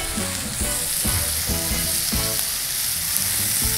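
A sizzling chili-and-relish mixture for a double deck cheeseburger is stirred in a hot pan, with steady frying hiss and rhythmic scraping strokes repeating close by and no talking.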